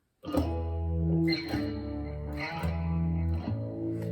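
Distorted electric guitar plays a heavy octave riff on the 6th and 4th strings, closing out the verse of a song; a handful of loud, sustained chords ring one after another with effects-laden tone.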